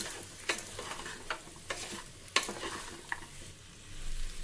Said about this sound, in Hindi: डालेंगे 1 कटोरी फ्रेश मटर। इसे भी अच्छे से 2-3 मिनट और भून लेंगे।